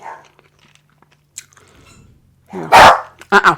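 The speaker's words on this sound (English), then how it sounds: "They're gonna start barking." A dog barks in a couple of loud, close bursts near the end, after quiet stretches of faint clicks and chewing-like crunches.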